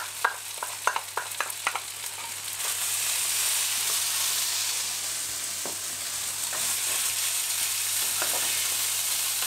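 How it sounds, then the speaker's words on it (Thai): Rice stir-fried with Thai roasted chili paste in a pan for chicken and salted egg fried rice: a few sharp spatula knocks at first, then a loud, continuous close-up frying hiss with occasional scrapes. "ผัดให้เข้ากันเลยนะคะ"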